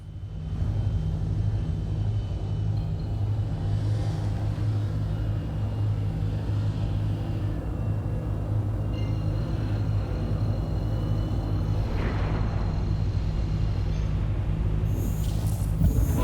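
RSI Aurora ES spacecraft in the game Star Citizen spooling up its quantum drive, a loud steady engine rumble with a low hum and tonal whine that holds for about sixteen seconds, with brief rising swooshes layered on top.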